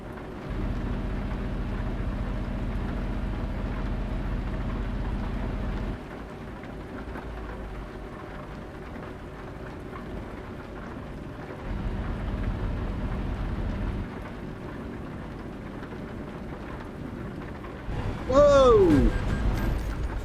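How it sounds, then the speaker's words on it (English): Steady heavy rain pours in a Euro Truck Simulator 2 driving scene, with rolling thunder rumbling low beneath it and a brief sharp sound near the end. "Does it really rain that much here?"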